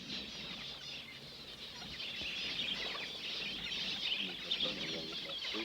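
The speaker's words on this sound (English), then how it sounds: "already the birds have found the water" Birds gathered at the overflow of a newly built water tank in the Australian outback, a busy mix of clucking calls and wing flutters, fairly close and continuous, with a faint voice mixed in.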